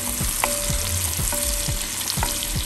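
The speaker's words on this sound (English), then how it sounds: "the mushrooms cooking away nicely, just starting to break apart a bit" Shallots and mushrooms fry in a pan with a constant close sizzle, punctuated by rhythmic scrapes and knocks of a utensil stirring them, no voices.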